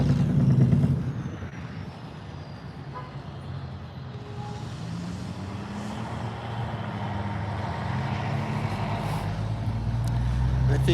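Cars and trucks drive along a road behind the listener, making a continuous rumble of traffic. Engines swell and pass, and a heavier vehicle roars louder near the start and again toward the end.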